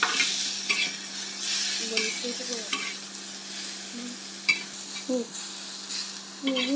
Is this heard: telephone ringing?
no